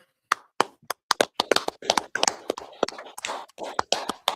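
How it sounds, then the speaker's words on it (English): Audience clapping at a live scripture teaching event in Montreal, scattered and uneven claps building into a brief round of applause in a room, with no one speaking over it. "All right, clap it up."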